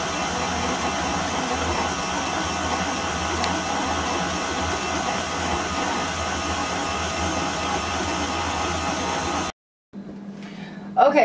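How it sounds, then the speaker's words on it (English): KitchenAid stand mixer with its paddle attachment mashing cooked beans into a pulp for a gluten-free chocolate cake, giving a steady, loud motor whir that stops abruptly near the end before a brief restart. "this paddle on the KitchenAid was not doing the job of mashing up the beans to be kind of a pulp"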